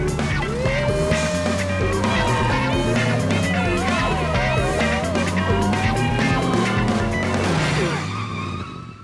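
Cartoon car chase with a getaway car and police cars: tires squeal and skid in long wavering screeches over revving engines, loud and close throughout, with a siren-like whine before it fades at the end.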